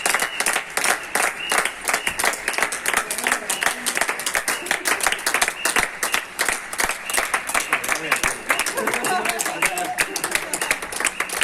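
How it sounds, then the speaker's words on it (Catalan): Crowd of people applauding outside a hospital to honour healthcare staff: steady, dense clapping throughout, with voices and cheers mixed in. "I avui tenim aquí persones que han parat aquí davant de l'hospital per fer aplaudiments al personal sanitari."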